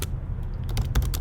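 Keystrokes on a computer keyboard while entering a Python command in the AWS Cloud9 IDE, a quick run of close, light clicks over a low steady hum, with no talking.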